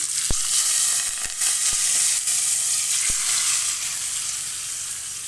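Liquid is poured into a hot pan with curry leaves and sets off a loud, steady sizzle with a few sharp pops and clinks, close by.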